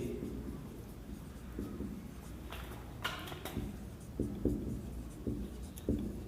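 A teacher writes on a classroom board during a lesson, with faint scratchy strokes and occasional soft taps over a low background hum.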